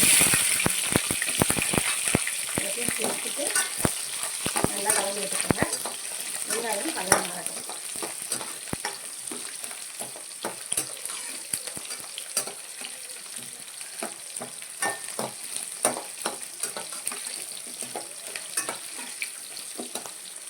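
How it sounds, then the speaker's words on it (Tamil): Onions sautéing in oil in a pan with a little salt, a continuous close sizzle broken by frequent scraping and clacking stirs, with no speech. "இதோட கொஞ்சமாக உப்பு உப்பு சேர்த்து வெங்காயத்தை வதக்கும் போது வெங்காயம் சீக்கிரமாக வதங்கிடும்"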